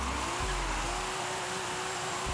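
A supercharged 500 hp Nissan Fairlady Z drifts through a street corner in Forza Horizon 5, its engine holding a steady high drone with rumbling low-end thumps, loud and continuous.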